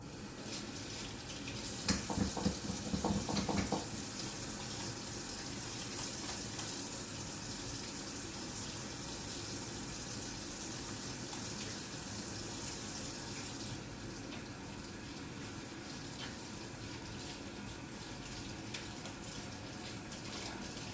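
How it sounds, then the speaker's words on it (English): Hands being washed with soap under a running kitchen tap, a continuous steady rush of water with a brief burst of splashing and rubbing near the start, fairly close and alone. "we always want to make sure we wash our hands with soap and water"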